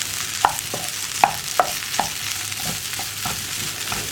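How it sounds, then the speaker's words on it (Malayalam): Mashed potato being stirred into masala in a pan for potato bonda, a spoon knocking and scraping the pan in a series of sharp clinks over a steady low sizzle, close and clear. "ഞാൻ ഇതിലേക്ക് നമ്മുടെ ഉരുളക്കിഴങ്ങ് ഉടച്ചത് ചേർക്കുകയാണ്. ഇതൊന്ന് നന്നായിട്ട് ഇളക്കി മിക്സ് ചെയ്യാം."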